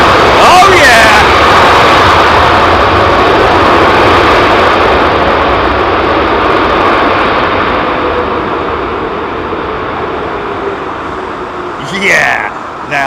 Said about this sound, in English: Yeah, now that is full thrust.